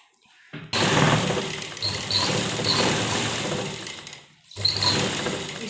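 A sewing machine stitches a salwar in two runs of buzzing, motor-driven whirring, close and loud, separated by a short pause.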